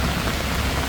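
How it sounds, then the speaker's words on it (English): Heavy monsoon rain pours down in Bangkok in a constant, dense hiss, loud and unbroken with no other sounds. "the rain is laying down already."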